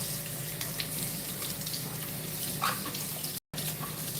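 Tap water runs in a steady, even rush as garden cups and plants from an indoor Gardyn system are rinsed in a sink, with faint splashes and one brief dropout near the end.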